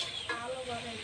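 Duck meat frying under a lid in a pan on a village kitchen stove, giving a steady close hiss and sizzle with faint crackles throughout.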